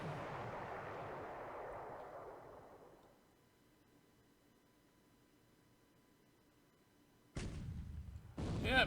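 A heavy naval gun fires in a World War II strategy game set around the Philippines in 1941: a loud booming blast that rumbles and fades over about three seconds, then two more sharp, loud reports near the end.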